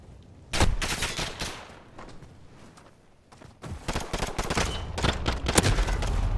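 Pistol gunfire in Call of Duty: Modern Warfare, a run of loud, close sharp shots in bursts, briefly thinning out midway before resuming in a dense volley.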